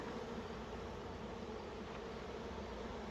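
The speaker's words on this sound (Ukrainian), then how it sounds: "Це стільки бджоли." Honey bees buzz in a dense, continuous drone at an open hive being packed for winter, steady and fairly quiet, with no other sounds.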